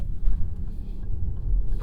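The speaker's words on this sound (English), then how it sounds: "I'm going to come out of this turn and I'm going to put my foot to the floor" A 2026 Lexus RX 450h+ plug-in hybrid pulls hard out of a turn in full electric mode, giving a low, steady cabin rumble and road noise with no engine note and no voices.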